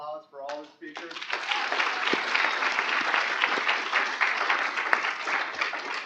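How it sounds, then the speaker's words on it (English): A conference audience gives a round of applause for all the speakers at an urban futures event. A brief spoken phrase opens, then dense, sustained clapping from a sizable crowd continues steadily at full volume to the end. "and another round of applause for all the speakers."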